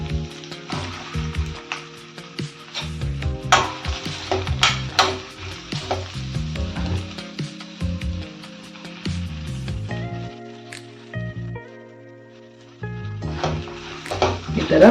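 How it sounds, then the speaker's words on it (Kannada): Chopped ridge gourd sautéing in a pan on medium heat, with a close, lively sizzle and repeated scraping stirs of a spatula, pausing briefly before the stirring resumes. "ಈಗ ಇಲ್ಲೊಂದು ಬಾಣಲೆ ಇಟ್ಕೊಂಡು ಈ ಹೆಚ್ಕೊಂಡಿರೋ ಹೀರೆಕಾಯಿನ ಸ್ವಲ್ಪ ಬಾಡಿಸ್ಕೊತೀನಿ."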